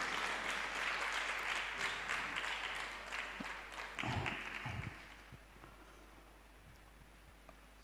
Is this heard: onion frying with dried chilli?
no